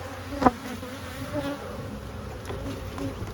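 Honeybees buzz in a steady, dense drone around an opened hive during a split inspection, close up, with one brief louder pass near the start.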